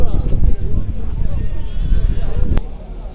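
Lambs bleating amid a busy livestock pen at a sheep market in Maştağa, their cries mixed with people talking nearby.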